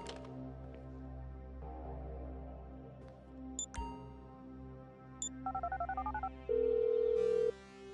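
A phone call in the video game GTA V: beeps and a chirping, warbling ring tone, then a steady sustained tone, all over a low, constant background hum.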